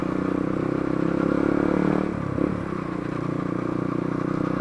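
A Yamaha XTZ motorcycle rides along with a continuous, close engine drone and road rumble, followed by a brief clattering scrape midway through.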